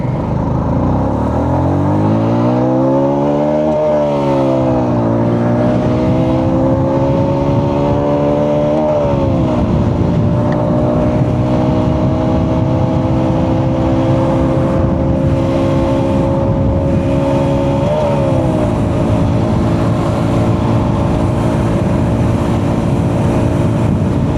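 Honda RS 125 Fi motorcycle pulling away from a start in first gear, its engine note rising loud and close in several revving sweeps with gear-shift drops, steady throughout with no talk.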